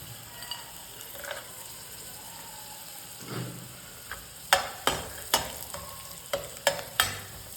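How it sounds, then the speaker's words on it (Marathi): Cashews fry in hot oil with browned garlic while being stirred, a soft steady sizzle with a run of sharp spoon clinks against the pan in the second half. "काजू पण थोडेसे लालसर होईपर्यंत तेलामध्ये परतून घ्यायचे"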